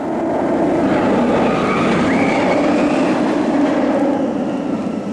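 A loud, steady rumbling roar of the Nemesis roller coaster at Alton Towers racing along its track, with rattling and a faint rising whine, continuous throughout with no voices.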